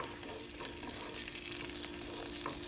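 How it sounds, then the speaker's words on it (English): A steady, close sizzling hiss of oil and butter with black pepper frying in a pan continues without pause, with faint stirring noises mixed in. "You can hear it sizzle."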